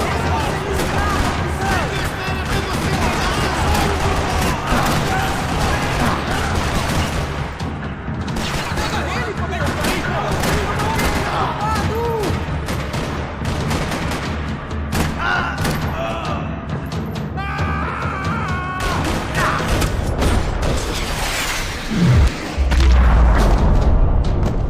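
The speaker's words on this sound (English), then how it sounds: "Another parking lot rattling with gunfire." Gunfire rattles through a parking lot in the action video game Max Payne 3, dense booms and thuds continuing steadily under music and effects.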